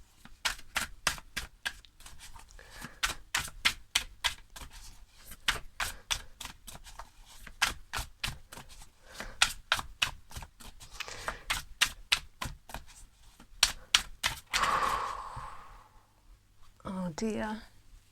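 Tarot cards being shuffled in the hand: a long run of rapid, crisp riffling flicks in uneven bursts, close and fairly loud, followed by a brief soft rustle, with no talking.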